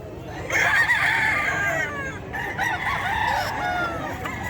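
Roosters crow loudly and close at a gamefowl pet market, a couple of long overlapping cock-a-doodle-doo calls with clucking fowl and faint background chatter around them.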